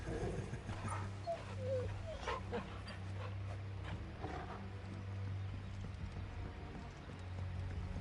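In Final Fantasy XVI, the dog Torgal gives a few soft yips and whimpers amid faint hoof clip-clops and quiet game ambience, all fairly low in level.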